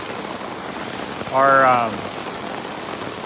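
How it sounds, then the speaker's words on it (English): Steady rain hisses evenly throughout, with a short burst of speech briefly rising above it midway. "I just thought I'd cut a video and show people what it's like when it rains"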